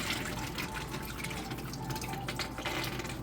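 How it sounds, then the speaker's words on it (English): Soaked dry split peas are drained of their water, making a steady close wash of running and splashing liquid that continues without a break. "I have a pound of dry split peas in here that I've been soaking overnight. So now I'm going to drain that"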